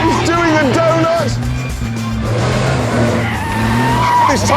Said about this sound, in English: That is power sliding now. Look at that! He's doing a donut!